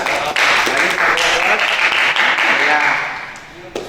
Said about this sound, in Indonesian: sekali lagi kita beri aplaus kepada semua kelompok